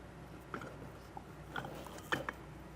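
A 1/2 inch wrench tightens an air fitting on an Air Lift LoadLifter 5000 rear helper spring on a 2024 Ford, giving a few faint ratcheting clicks and metal taps in short bursts.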